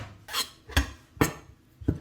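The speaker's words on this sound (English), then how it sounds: "Just gonna put this directly into my pan." Chunks of raw pork belly, cut about an inch thick, dropped into a pan, giving four separate soft thuds and clatters against the metal at a close, quiet level.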